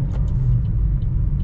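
A 2022 BMW X3 M40i with a turbo engine gives a steady low rumble while driving, a close, even interior drone without speech.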